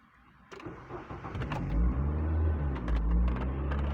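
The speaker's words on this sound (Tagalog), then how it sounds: "i-start natin yung makina" A Nissan Grand Livina engine cranks and catches, then settles into a loud, low rumbling idle close by.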